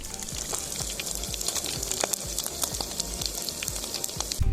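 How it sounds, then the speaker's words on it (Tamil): Chicken frying in a pan for a Malaysian dish, a close, continuous sizzle with dense crackling pops and spits, and a louder burst at the very end, with no talk over it. "ஃப்ரை ஆகிடுச்சு."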